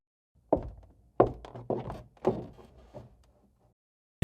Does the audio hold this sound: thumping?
yes